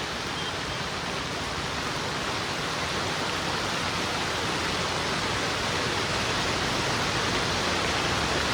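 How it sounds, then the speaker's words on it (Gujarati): Steady, dense broadband rush of heavy rain in Bhavnagar, loud and continuous throughout with no voices. "ફૂલ એટલા ફૂલ વરસાદ છે"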